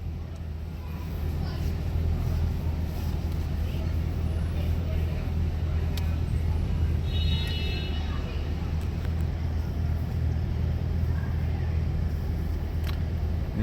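A 2007 Mercedes-AMG SL55 engine drones steadily from inside the car on a ride along, a low continuous rumble with passing road noise and a brief whine partway through, under people talking.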